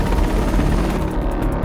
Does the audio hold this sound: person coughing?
no